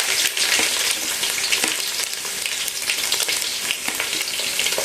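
Mustard seeds and chopped ginger fry in hot oil for a Kerala-style chicken curry, a loud, close, bright sizzle with scattered crackles and pops running unbroken, no speech.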